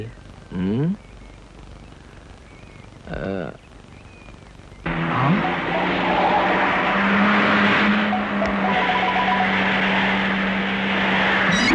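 An expensive car drives past and skids, a loud engine roar and tyre screech that comes in suddenly partway through and holds, after two brief voice-like bursts earlier.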